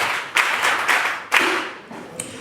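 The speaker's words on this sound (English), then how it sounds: "Members, let us clap heavily for him." Members of an audience clap heavily in a few loud bursts, clusters of hand claps surging and fading twice before trailing off into scattered claps, fairly close with a slightly echoing room.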